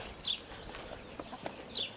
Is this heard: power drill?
no